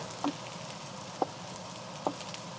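Eggplant fries in a pan with a soft, steady sizzle and hiss, broken by three small sharp pops spaced about a second apart.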